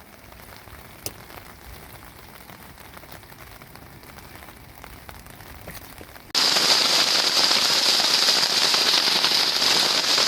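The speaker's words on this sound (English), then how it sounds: "we got hail coming down now" Hail pouring down outdoors during a pontoon boat trip, beginning abruptly partway through as a dense, loud, steady hiss of countless hailstones striking surfaces, after a quieter stretch of faint ambient noise.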